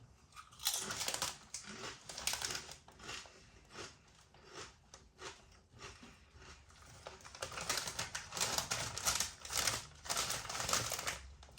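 Close, crisp crunching of Seabrook thick crinkle-cut potato crisps being chewed, in repeated bursts of crackly bites with brief pauses between them.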